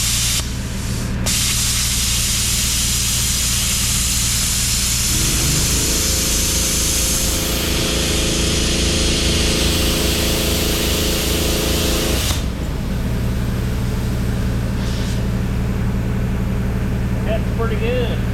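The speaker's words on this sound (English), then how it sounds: "we're going to try to cut this piece of 1/8 inch angle iron to start with" An ArcCaptain 55MP plasma cutter slices through 1/8 inch angle iron, a steady loud hissing roar with a low humming drone that holds for several seconds before cutting off, with background noise continuing after.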